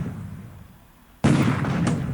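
Artillery fire in the War in the Pacific: Admiral's Edition strategy game: a quiet low rumble, then a sudden loud blast with a crackling, rumbling tail and a second smaller burst.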